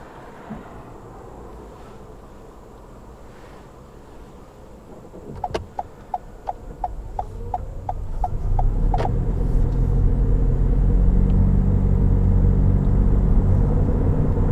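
A car pulls away during a mock driving test, engine rumble building steadily from quiet idle into louder, sustained driving noise, with a run of regular clicks like an indicator ticking midway.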